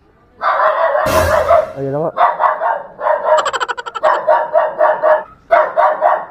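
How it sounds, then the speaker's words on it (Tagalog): A dog barks at an open gate, a string of loud, rapid barks with a brief whimpering yip, close by, while a person speaks briefly over it. "baka may aso."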